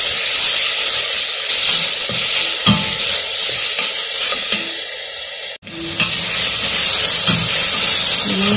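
Chicken pieces sautéing in a pot for a Turkish-style vegetable clay-pot dish, with a steady loud sizzle and hiss plus occasional scraping stirs, one brief break near the end.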